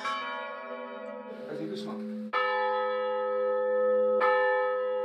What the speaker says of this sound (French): Perché au sommet de l'église d'Opède-le-Vieux, Vincent est son père, dernier sonneur de cloche du Vaucluse.